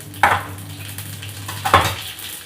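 Cumin seeds dropped into hot oil after mustard seeds, crackling in two short bursts of sharp sizzle with a quieter background hiss in between.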